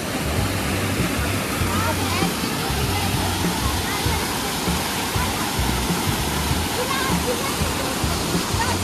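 Bhatta Falls near Mussoorie roars steadily, a loud, continuous rush of falling water filling everything with dense splashing noise and no letup.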